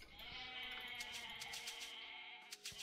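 A goat in a strategy video game bleats several times in a row, small and somewhat distant, over a steady hum of game music and ambience. No one talks over it.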